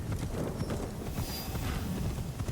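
Horse hooves clip-clopping steadily in the game Assassin's Creed Shadows, a continuous close rhythm of hoofbeats over a rumbling outdoor background, with no one speaking.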